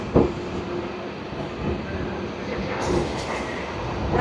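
A passenger train rolls into Krishnapur station on the Sealdah division line toward Lalgola, with a continuous rumbling, rattling roar close by and a few clanks and squeals along the way.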